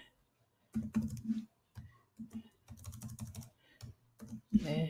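Keyboard typing while C++ code is entered, bursts of clicky keystrokes in quick irregular runs separated by short pauses, close and fairly quiet, with faint voice-like tones underneath.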